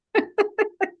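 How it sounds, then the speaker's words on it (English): A cat meows four times in quick succession, evenly spaced, close and clear with silence between calls. "But he hasn't stopped meowing."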